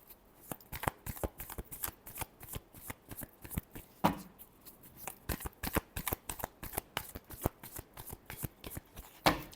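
Tarot cards being shuffled by hand, a dense run of quick papery riffles and slaps with brief pauses, close and fairly quiet, with no talking.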